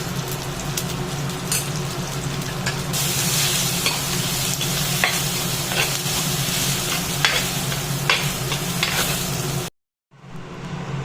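Kashmiri chili powder and turmeric powder being stirred and fried in hot oil for a fish kuzhambu curry, with a steady close sizzle and frequent scraping stirs, then an abrupt cut to near silence at the end.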